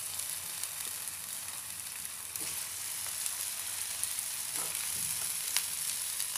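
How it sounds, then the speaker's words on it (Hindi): Potatoes and cauliflower frying in a pan over a medium flame, giving a steady, fairly quiet sizzle with a few faint stirring scrapes and no talking. "इसमें हमने करना ये है कि पहले हम आलू और गोभी जो है उसको थोड़ा सा भूनेंगे।"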